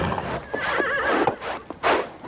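A cartoon horse pulling a cart gives a loud, wavering whinny with a few hoof clops mixed in, close up and with no talking over it.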